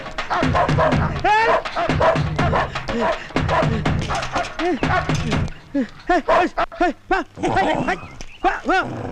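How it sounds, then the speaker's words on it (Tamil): Dogs bark repeatedly as they chase a person, the sharp barks and yips coming in quick bursts close by, mixed with shouting voices in the first half. "என்ன என்ன இந்த நாய்ங்களான துரத்துது?"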